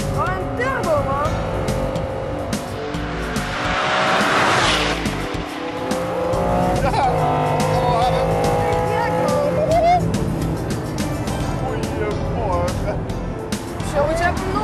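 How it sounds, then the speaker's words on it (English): The world's most expensive car accelerates hard with its turbo, engine rising in pitch through several gear pulls, tires squealing at moments, while excited voices talk and exclaim over it. "Oh, een turbo, man."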